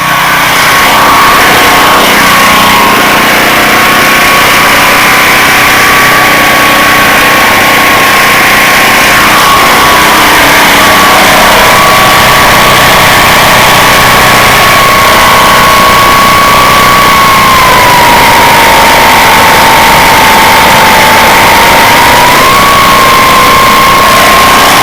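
A portable generator engine runs through a rough warm-up with its muffler aimed away, a steady droning hum with a wavering tone that stays loud and constant throughout, no voices over it.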